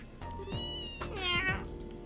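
A cat meows in the video game Trails in the Sky SC, a couple of close, drawn-out calls rising and falling over soft game music.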